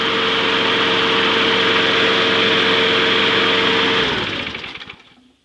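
A lawn mower engine idles with a steady, loud mechanical drone, then is shut off around four seconds in, spinning down and fading to silence.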